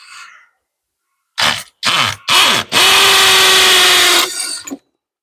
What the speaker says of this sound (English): I'm going to be using the old little old DeWalt 18-volt battery drill.